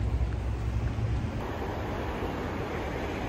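Steady rain in Prague, a soft broadband hiss and patter with low rumble, continuous and fairly faint throughout with no voices.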